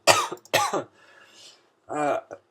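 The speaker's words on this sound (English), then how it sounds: "Still been coughing." A couple of harsh coughs up close, followed after a short pause by another cough and a brief throat sound.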